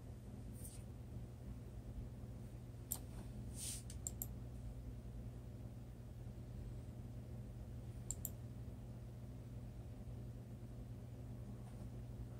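Computer mouse clicks while browsing search results, a few faint, sharp isolated clicks scattered over a quiet room hum.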